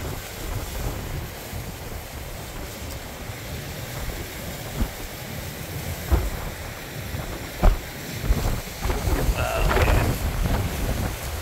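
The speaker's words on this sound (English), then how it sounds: "this wind definitely makes it cooler" Steady wind buffets the microphone while surf rolls in at the mouth of the Coquille River near the lighthouse in Bandon, Oregon, with a few louder gusts and wave crashes over a constant low rumble; no one speaks.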